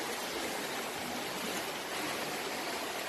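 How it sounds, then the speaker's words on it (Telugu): Floodwater after heavy rain in Hyderabad rushes steadily through a residential colony, a dense, continuous broadband roar like a strong stream that holds at an even level throughout, with no voices. "ఇంకా నీటి ప్రవాహం ప్రవాహము అలాగే ఉంది"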